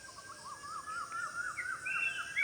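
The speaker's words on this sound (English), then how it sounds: "Can you hear some sounds from birds?" An unidentified night bird calls at dawn around 5:30, its repeated wavering, rising cries coming from a distance and running alone over a quiet outdoor background.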